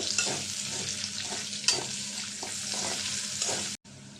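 Cloves and spice paste frying in a pot for a chicken curry with potatoes give a busy sizzle broken by repeated stirring scrapes. The crackle is close and steady, then cuts off sharply near the end.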